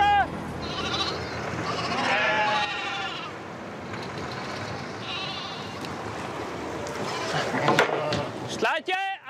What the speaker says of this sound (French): je reste prêté main forte à Bjarni pour charger les moutons.